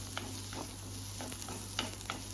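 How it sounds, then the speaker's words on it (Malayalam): Curry leaves, tamarind, onion and chilli powder sautéing in a pan for a chutney, with quiet, intermittent spatula scrapes and soft clicks over a faint, steady sizzle and no talk. "ഇനി നമുക്ക് ഇതിലേക്ക് നമുക്ക് ഈ കരിയേപ്പിൻ്റെ ഈ പുളിയും കൂടി ഇട്ടിട്ട് ഒന്ന് വഴറ്റിയെടുക്കാം"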